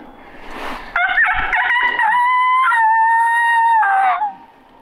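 A voice imitates a long, wavering coyote howl that rises and holds steady for a few seconds, echoing into the woods, then trails off into quiet surroundings.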